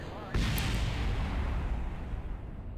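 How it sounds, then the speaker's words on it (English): A decoupler fires in Kerbal Space Program with a sudden loud explosive bang that booms and rumbles, then decays over a couple of seconds into a fading roar. "So let's test the decoupler."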